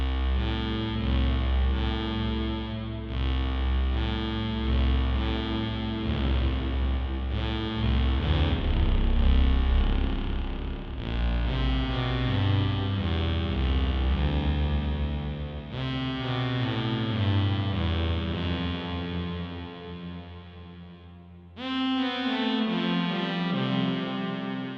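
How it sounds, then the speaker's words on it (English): Roland JX-08 synthesizer playing a bowed string patch with portamento, notes gliding between pitches like a fretless instrument; a continuous, rich melodic line with sustained tones and a slide near the end, loud and close. "Let's start by adding a tasteful amount of portamento to simulate playing a fretless instrument."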